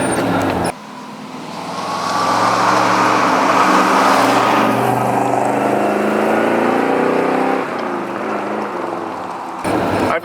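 A 1967 Pontiac GTO driving through a corner, steady loud engine drone and road roar rising as it accelerates, then easing off, heard from inside the car.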